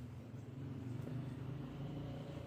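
A car passes on a nearby road outside a house, heard as a steady low engine rumble and road noise that swells slightly, muffled and moderately distant, with no talking.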